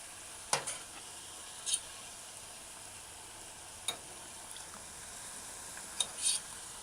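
Ripe plantain deep frying in hot oil gives a steady, quiet sizzle throughout, broken by a few brief louder crackles and pops scattered across the stretch.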